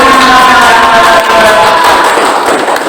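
Classroom group members applaud a presenting team, a dense wash of clapping mixed with crowd noise filling nearly three seconds at close, loud level.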